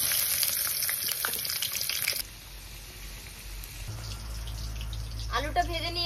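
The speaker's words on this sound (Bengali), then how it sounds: "এখন আলুগুলো ভেজে নেব।" Potatoes frying in hot oil in a wok, a steady broadband sizzle that drops and settles partway through, with kitchen clatter and a brief voice near the end.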